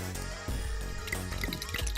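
Liquid pours and drips in the video game Zero Escape: The Nonary Games, a run of wet drips heard over steady background game music.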